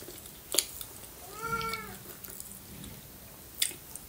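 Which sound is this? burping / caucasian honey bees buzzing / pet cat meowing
pet cat meowing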